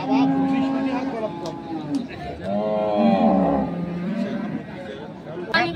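A dairy cow moos repeatedly at a busy rural cattle market in Dinajpur, its long lowing calls rising over crowd chatter and nearby talk.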